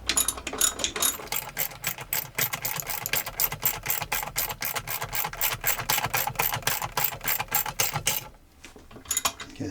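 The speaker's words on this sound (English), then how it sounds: "And these just have to go down snug," A ratchet wrench snugs down the bolts of a Thetford RV toilet, giving off rapid, steady, close clicking that runs for about eight seconds, then a short pause and a few more clicks.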